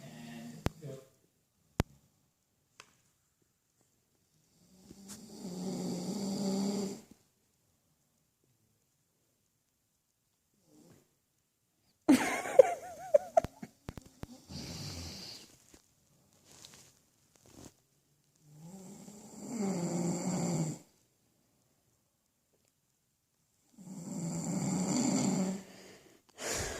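A man snores while asleep, with long, loud rasping snores recurring at intervals of several seconds and quiet breaths, rustles and clicks in between.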